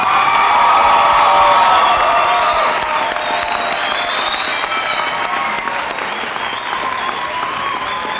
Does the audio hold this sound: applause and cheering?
yes